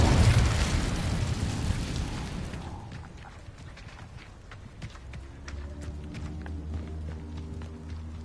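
Incendio fire spell cast in Hogwarts Legacy, a loud whooshing fiery burst that fades into crackling and scattered footsteps.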